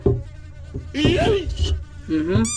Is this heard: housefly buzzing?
yes